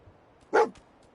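Dogmeat, the dog companion in Fallout 4, gives a single short bark, sharp and close, against near silence with faint background ambience.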